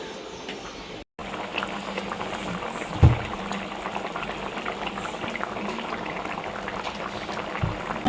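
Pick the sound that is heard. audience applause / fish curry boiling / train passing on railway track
fish curry boiling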